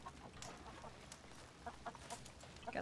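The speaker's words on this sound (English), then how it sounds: "Got some chickens." Chickens cluck softly in the video game Red Dead Redemption 2, faint scattered clucks over a low ambient game background, with no talking.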